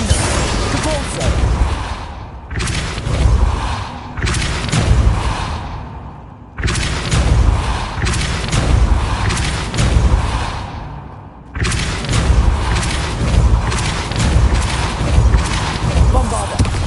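Explosive spell blasts from Bombarda and Confringo in Hogwarts Legacy, heavy booming bursts and whooshes in repeated loud waves, broken by a few brief pauses, with voices calling out over the blasts.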